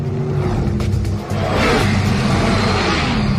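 Car engine revving loudly and continuously, with a brief dip in the roar before it surges again into a sustained, strained drone.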